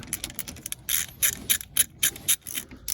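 A ratchet cinching down two 14mm bolts on Ford Focus brakes, with quick bursts of close, sharp metallic clicking in an uneven rhythm and no talk.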